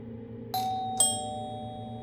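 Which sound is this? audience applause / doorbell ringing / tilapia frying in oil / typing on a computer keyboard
doorbell ringing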